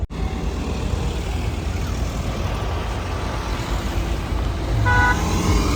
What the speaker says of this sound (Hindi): और ये अभी गाड़ी आ रही है, आप देख सकते हैं